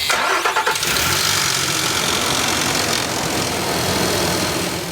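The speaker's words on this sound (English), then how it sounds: "So that sound you heard there right at startup was the timing chain rattling because it was loose and waiting for oil pressure to tighten that up." A Nissan NV3500 van engine cranks and fires up, with a loose timing chain rattling briefly at startup before settling into a steady, loud idle; the start is close and continuous.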